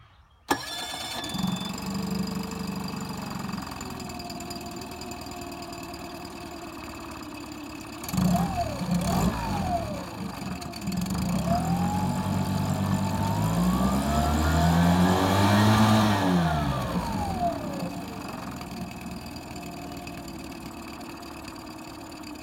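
A 2018 Mercury Fourstroke 20HP outboard motor cranks and fires at about eight seconds, then runs at a steady idle before a smooth rev rises, peaks around sixteen seconds and settles back down, fairly close and moderately loud with no talk.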